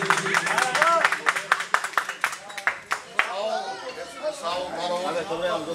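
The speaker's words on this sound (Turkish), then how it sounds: "Güçlü bir alkış yapın." An audience claps at a circumcision celebration, producing a burst of brisk, close applause that tapers off, with a voice speaking over and after it and a buzzy hum underneath.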